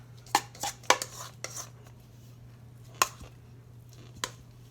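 A spoon clinks and scrapes against a bowl while thick cheddar garlic beer bread dough is worked out, a few sharp knocks and scrapes spaced apart over a quiet background hum.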